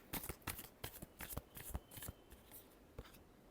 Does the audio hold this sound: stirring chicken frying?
no